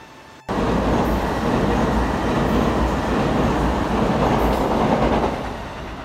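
A train on the Chuo Main Line rushes past in a sustained, loud roar of wheels and rail noise that starts abruptly and holds steady before easing slightly toward the end, with no voices.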